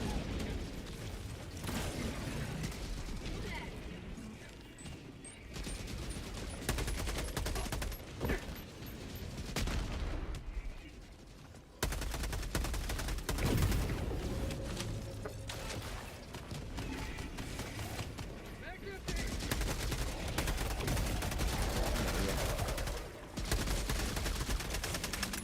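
Video game combat with mortar fire and gunfire, dense bursts of shots and booming impacts rolling continuously over about twenty-five seconds, loud and close, with a brief lull near the middle.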